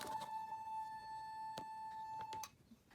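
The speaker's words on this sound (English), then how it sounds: "You should just be able to hear a high-pitched sound." A steady, pure high-pitched 880 Hz tone plays from a loudspeaker driven by alternating current. It holds for about two and a half seconds and then cuts off, with faint background noise and no voices.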